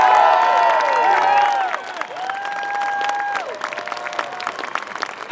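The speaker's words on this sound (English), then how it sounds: "Please give a massive round of applause to Iona Soper" A rally crowd in George Square, Glasgow, applauds and cheers after a speech, loud clapping over sustained voices that fades into scattered claps and a lingering murmur.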